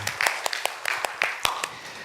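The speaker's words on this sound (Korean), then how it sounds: "하나님께 영광의 박수 올려드리겠습니다" A church congregation claps in praise, heard as sparse, distinct hand claps spaced roughly a quarter-second apart rather than a thick roar, fairly close and moderately loud.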